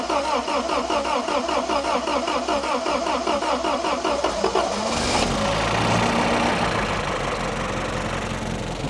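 An MG Midget's engine cranks with a rapid rhythmic chugging for about five seconds, then catches and settles into a steady, loud idle, close by with no talking.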